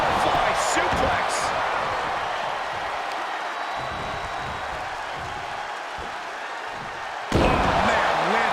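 A wrestler is slammed onto the mat by a butterfly suplex at WWE Royal Rumble 2022, a loud heavy thud ringing out over steady crowd noise and an excited commentator's voice.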